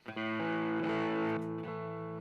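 A sustained, buzzy electric guitar tone with gritty overdrive, chords held and shifting once midway, loud and close with no talking.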